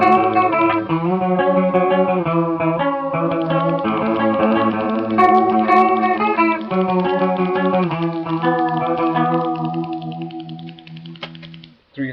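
Electric guitar runs through an Electro-Harmonix Small Clone chorus pedal set at twelve o'clock, with a Small Stone and Big Muff Pi in the chain, playing sustained, gently wavering chords and picked notes loudly and continuously before fading out at the end.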